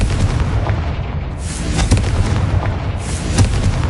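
A blasting spell goes off in a Hogwarts video game, a loud rumbling boom with repeated thudding bursts and crackle over a continuous roar, no talk.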